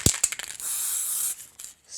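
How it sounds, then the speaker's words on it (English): Spray glue hisses from an aerosol can onto card in a crafting session: a sharp click, short puffs, then a long steady spray lasting about a second, a pause, and another brief spray starting, close and without talk. "Spray one side, carefully turn it, spray the other."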